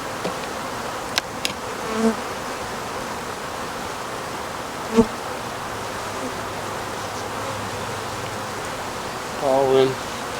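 Honeybees buzz around an opened hive during a colony inspection, making a steady, soft, diffuse hum with occasional louder passes of individual bees close by.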